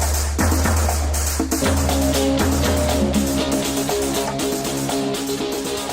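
Busy instrumental music plays continuously with a steady low bass line, layered synth chords and driving percussion, loud and without any voices.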